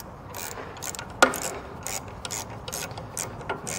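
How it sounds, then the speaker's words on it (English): Ratchet wrench clicking as it runs down a belt tensioner bolt on a Bobcat, with a quick series of light, close ratcheting clicks and one sharper knock near the start. "run it down with my ratchet wrench."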